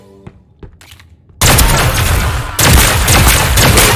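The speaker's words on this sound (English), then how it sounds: "1 more than the previous shotgun. Now let's go for headshots." Heavy shotgun blasts in the video game Deceive Inc., loud booming reports filling the last part of the clip in two dense bursts after a quieter start.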